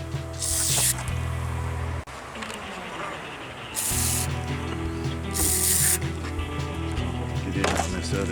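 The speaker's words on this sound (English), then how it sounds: "I'm going to spray them and see what happens." Tire foam hisses from an aerosol can onto a level crusted with cement, in three bursts with gaps between them, close and loud over a mechanical rattling background.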